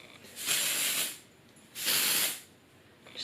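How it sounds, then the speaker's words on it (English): Sexy Hair Texture Circle Curl Spray, a dry texturizing spray, hisses from an aerosol can onto hair in two close, steady bursts of about a second each, with a short third burst starting at the end and no talking. "I normally go in with my Sexy Hair Texture Circle Curl Spray, dry texturizing spray."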